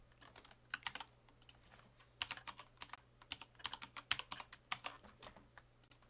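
Someone types an email and password on a computer keyboard: quiet, close, irregular bursts of soft key clicks with short pauses between words.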